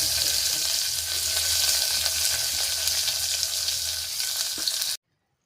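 Onions and curry leaves fry in hot coconut oil inside a pressure cooker, giving a steady, close, loud sizzle that runs unbroken for about five seconds and then stops abruptly.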